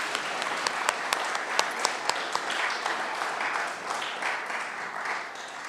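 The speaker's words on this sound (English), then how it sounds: "let's give them a round of applause" An audience at a school awards chapel applauds steadily, a dense wash of many hands with sharper individual claps standing out early, holding at a strong level for several seconds before easing slightly toward the end.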